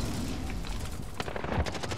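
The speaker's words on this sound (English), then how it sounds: "I keep getting shot from random places" Gunfire rattles through a video game match in rapid, close bursts of automatic fire, with a heavier boom near the end and no voices.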